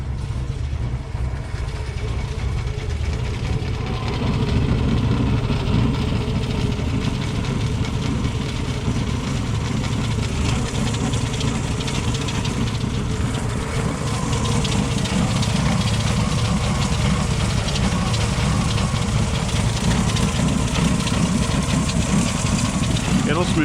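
A 1977 Ford F-150 engine idles cold with its choke set wide open, a steady low rumble that runs on without a break for the whole stretch, loud and close, and a faint voice or two murmurs in the background.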